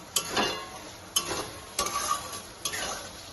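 Mashed seasoned soybeans stirred in a pan with a utensil, four distinct scraping strokes against the pan, each followed by a soft sizzle, close and fairly quiet with no talk.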